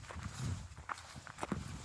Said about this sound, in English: The crunch of the gravel underfoot.